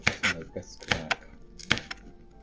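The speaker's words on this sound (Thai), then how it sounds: "พอหั่นพริกเสร็จเรียบร้อย" A knife chops chili peppers into small pieces on a cutting board, giving several sharp, close taps in an uneven rhythm, with speech in the background.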